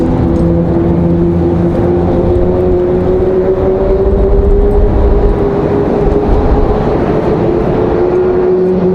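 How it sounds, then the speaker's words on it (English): Frontier airliner starting its engines at Raleigh Durham airport on a windy day, a loud steady low roar with a slowly rising whine held throughout, heard from nearby. "As we've got Frontier startup just below us."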